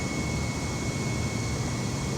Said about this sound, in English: I'm gonna put throttle to max.